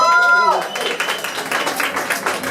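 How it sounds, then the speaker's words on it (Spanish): An audience at a book presentation claps for a Mexican author, a short burst of applause rising after a sustained tone and continuing steadily at moderate volume. "Un aplauso para ella,"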